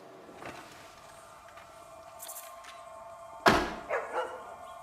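A dog in a park gives a sudden sharp bark followed by two shorter ones, fairly close, after a stretch of quiet outdoor ambience.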